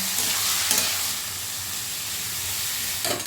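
Ash gourd with shrimp being stirred and fried in a pan, giving a loud, continuous hissing sizzle with scraping stirs at the start and end, no voices.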